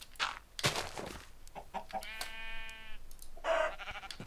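A Minecraft chicken being killed gives a few short clucking squawks and hurt sounds, with a tonal bleating call in between, all fairly faint and with no talking.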